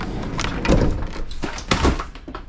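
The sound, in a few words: door being opened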